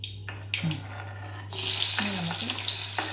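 Ginger and garlic fry in a hot pan, a steady loud sizzle that swells midway and carries on close up with a few clinks of a utensil against the pan.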